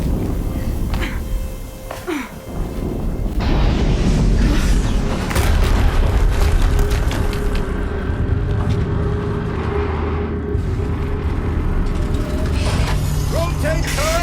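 In the Horizon Zero Dawn game at Maker's End, an explosion booms loudly, followed by rumbling mechanical clanks and whirring machinery that carry on for several seconds.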